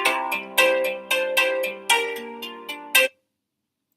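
A phone ringtone plays a bright melodic run of repeated notes for about three seconds, then cuts off abruptly into silence.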